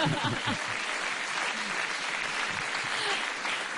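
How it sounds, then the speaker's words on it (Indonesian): Audience applause for Pak Parto during a televised talk segment around the 2014 presidential inauguration, a fairly quiet, even spread of clapping from a crowd that holds steady throughout. "tepuk tangan"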